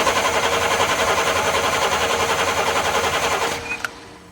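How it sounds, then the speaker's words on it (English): The starter cranks a 1972 Corvette's 454 engine, a loud, fast rhythmic churning that pulses steadily for several seconds before dropping away, followed by a brief click. "Oh, I can crank the engine."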